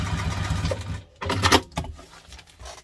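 A sewing machine stitching a double-compartment tiffin lunch tote hums briefly up close, followed by a few short handling bursts and rustles as it stops.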